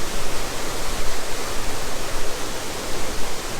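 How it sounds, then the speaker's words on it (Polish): A mountain waterfall near Mestia in Georgia, with a mass of water cascading down as a dense, steady roar that fills the clip at close range, with no voices. "robi wrażenie taka spływająca z góry masa wody"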